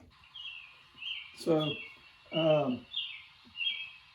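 Recorded bird calls played from a BirdBoard sound button board: a few distinct chirping and whistled notes in a sequence, with a brief spoken word near the start.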